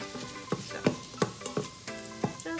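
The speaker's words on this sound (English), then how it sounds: "while we wait for that to saute" Shrimp sautéing in an Instant Pot for jambalaya, a soft steady sizzle broken by several sharp stirring clacks spaced about every half second, heard alone without talk.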